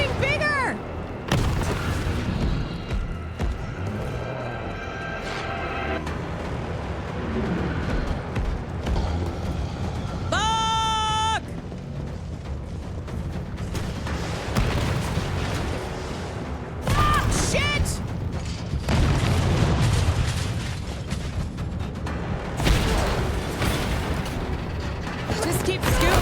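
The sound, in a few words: rocket launcher explosions from a video game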